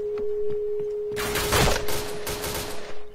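Rapid automatic gunfire in the online shooter game Point Blank comes in dense, loud bursts after a quieter stretch, with a steady electronic tone running underneath.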